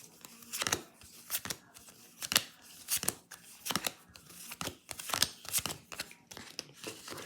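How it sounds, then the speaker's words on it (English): Playing cards being shuffled by hand for a tabletop board game, a series of sharp riffling and snapping bursts at an irregular rhythm, close and fairly quiet with no voices. "Give them another little mini shuffle, and then they become part of the draw pile."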